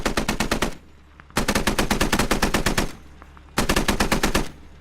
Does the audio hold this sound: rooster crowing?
no